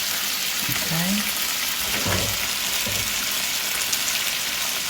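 Bacon strips sizzle steadily in a pan over moderate heat, a continuous close crackle with a brief scrape of movement partway through.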